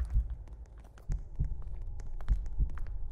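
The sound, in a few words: heartbeat sound effect in a Roblox video game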